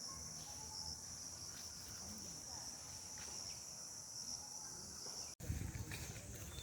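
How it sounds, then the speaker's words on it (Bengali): A continuous high insect trill of crickets fills green agricultural university grounds, steady and fairly faint, ending in a brief louder rustle. "পাখি বা ঝিঝি পোকা।"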